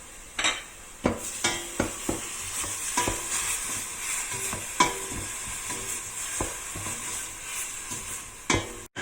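Onions frying in a pan with a steady background sizzle, broken by sharp scrapes and knocks as a spatula stirs and hits the pan; close and fairly loud, no talking.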